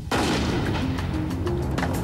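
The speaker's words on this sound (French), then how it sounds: "nous sommes arrivés sur une explosion qu'on va dire finale, qui est celle-ci" Special-effects explosion set off as the final test blast for a film stunt: a sudden loud boom that stays at full strength as a sustained roaring, crackling rumble for about two seconds, with no voices.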